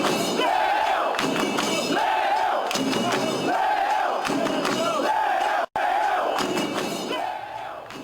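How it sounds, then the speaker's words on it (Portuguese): Football supporters shouting in a protest against club directors, a large crowd chanting loudly in a repeated rhythmic pattern with accompanying thumps. "a torcida estava protestando contra dirigentes"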